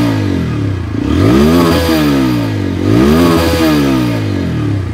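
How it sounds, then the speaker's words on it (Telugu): A TVS Apache RTR 160 4V motorcycle with a bull-pup exhaust revs up close and loud, rising and falling twice in smooth throttle blips over a steady idle. "సో దీన్ని ఇంకా ఎన్హాన్స్ చేయడానికి ఈ బుల్ పప్ ఎగ్జాస్ట్ ఆఫర్ చేశారు."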